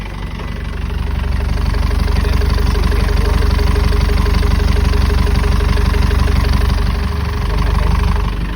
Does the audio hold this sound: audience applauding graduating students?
no